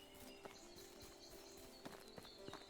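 Horse hooves clip-clopping in the medieval video game Medieval Dynasty, a handful of quick, light steps spread across a steady background ambience, moderately near.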